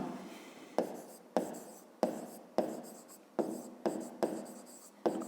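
Pen or pencil writing a maths solution by hand on paper, a series of eight sharp scratchy strokes each trailing off into softer scribbling, close and clear with no talk.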